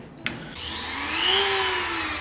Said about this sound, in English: Bring out the old Dremel. Small sanding bit in there.